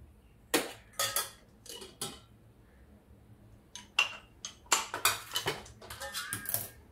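A lid going onto a pot of boiling Gujarati vegetable moong khichdi, heard as several close bursts of metallic clinks and clatters separated by brief pauses.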